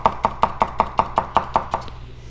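A Tsukasa Hinoura knife chops a cucumber in nine even, quick strokes, each a crisp thunk on the board, close and steady, with no talk.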